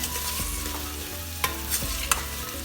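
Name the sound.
cut vegetables added and stirred in frying pan with onions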